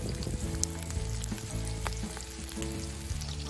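A flour-dredged venison shank sears in a pot over an open fire, with a dense continuous sizzle and crackle, close and steady, and a few sharper pops scattered through.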